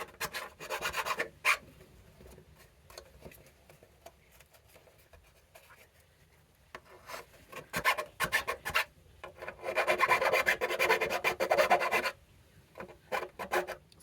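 A file cutting teeth openings in the face plate of a Shadow Trooper helmet, quick bursts of scratchy rasping strokes close up, with quiet pauses between bursts and a longer, louder run near the end.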